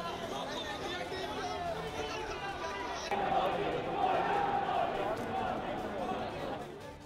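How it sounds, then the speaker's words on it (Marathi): Crowd of fans outside a hotel chanting and cheering for the Indian cricket team, a steady dense roar of many voices that swells louder midway and stays continuous throughout. "हॉटेल बाहेर देखील चाहत्यांकडून जयघोष केला जातोय"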